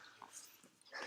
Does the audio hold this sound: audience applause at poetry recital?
no